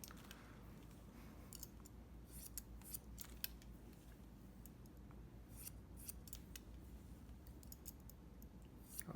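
Barber's scissors snip hair in a quiet cut guided over the fingers, with many faint, irregular close clicks over steady low background noise and no talk.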